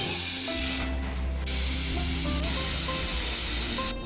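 A steady, loud hiss of steam escapes a pressure cooker's whistle on a gas stove while country chicken cooks, with one brief drop in the middle before the spraying sound resumes.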